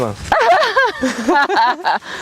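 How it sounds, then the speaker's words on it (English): A dog vocalizes close by in a run of whiny yips and short barks, rising and falling in pitch. "That's somebody's dog."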